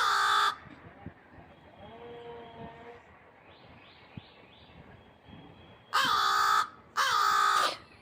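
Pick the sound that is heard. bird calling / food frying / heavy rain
bird calling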